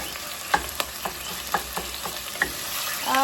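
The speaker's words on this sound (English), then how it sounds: "we are going to go ahead and saute our turkey, ground turkey. And we just go ahead and cook that up on medium-high heat" Ground turkey sautés in a pan over medium-high heat, giving a steady sizzle broken by several sharp scraping stirs of a utensil, close and fairly loud with no voices.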